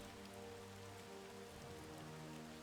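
The rain power falls in Battle for Middle-earth, a steady hiss of rain on a surface with a soft, continuous patter that stays quiet and even under faint tonal game sounds.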